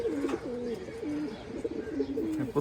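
Chila and Giribaz pigeons in a home loft coo in repeated rolling phrases, close and clear, several calls running back to back over quiet room noise.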